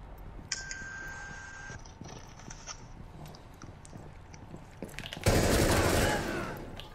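Gunfire in the tactical shooter Rainbow Six Siege: a brief crackle near the start, then a loud sustained burst of shots for about a second, trailing off, over a constant game background.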